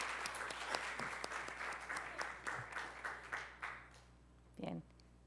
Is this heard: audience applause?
yes